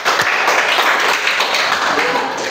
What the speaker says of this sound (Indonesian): Beri aplaus untuk kelompok 1 semuanya